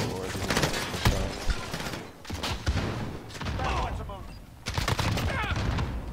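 Rapid bursts of M4A1 assault rifle fire crackle in Call of Duty: Modern Warfare multiplayer, loud sustained volleys broken by brief pauses, with a player talking underneath.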